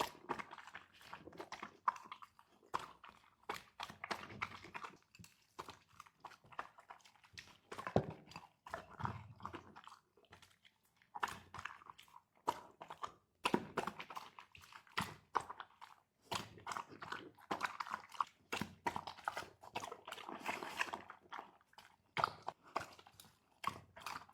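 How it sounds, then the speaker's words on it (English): A 50 kg Border Collie eating brunch: irregular bursts of wet chewing, crunching and snuffling snorts at close range, quiet and uneven with short pauses between mouthfuls, and no speech. "He made pig-like snorting sounds while eating."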